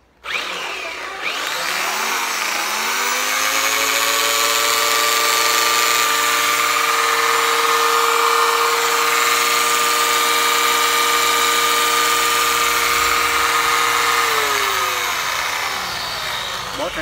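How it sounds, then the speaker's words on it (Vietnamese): A Japanese domestic 100V, 450W electric hand planer with an 82 mm blade spins up and runs steadily at a high-pitched whine for about fifteen seconds, then begins winding down. It is loud, close and continuous, with no talking over it. "Cây 15 là một cây bào bốt nghe nè."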